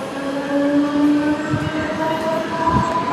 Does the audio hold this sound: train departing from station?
yes